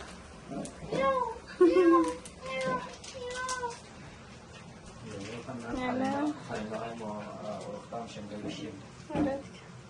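A cat meows several times in short, rising and falling calls, fairly close and distinct, while people talk around it in a home kitchen during cooking.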